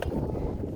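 Wind buffeting a microphone on the summit of Mount Lafayette on Franconia Ridge, New Hampshire, a brief, loud, low rumbling roar.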